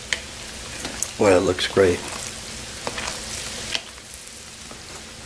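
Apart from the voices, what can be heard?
stirring hamburger hash in a slow cooker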